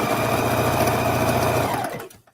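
A sewing machine stitches down an apron hem with a loud, steady, close mechanical whir that runs evenly and then winds down and stops near the end, with no talking.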